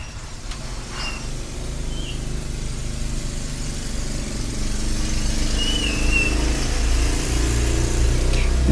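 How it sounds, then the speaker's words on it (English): A loud vehicle passing outside a room during indoor filming, a rumbling engine drone that builds and swells toward the end, heavy low-pitched noise close by with faint chirps over it and no talking. "That vehicle was so loud."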